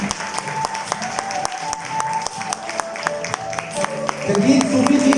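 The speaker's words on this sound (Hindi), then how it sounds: "जोरदार तालियों के साथ स्वागत करते हैं" An audience at a Hindi poetry gathering (kavi sammelan) gives rhythmic, hearty clapping to welcome the humorous poet Jagjit Sufi, steady beats with sustained tones beneath that grow fuller toward the end.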